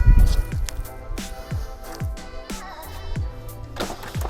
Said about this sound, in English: let's go ahead and get the ultra black sponge on the paint